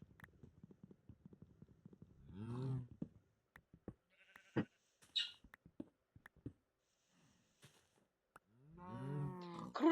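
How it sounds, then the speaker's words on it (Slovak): A Minecraft cow moos twice in the video game, each moo a low drawn-out call about two seconds long, separated by scattered game clicks and footsteps. "ďalšia krava, ja nechcem kravu"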